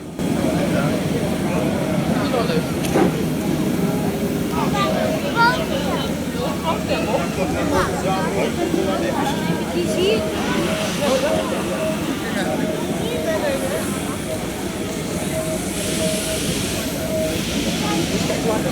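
A steam-powered boat's engine hisses and chugs steadily for a long stretch, loud and close, with a continuous mechanical rumble and breathy steam noise throughout.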